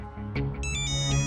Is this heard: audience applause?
no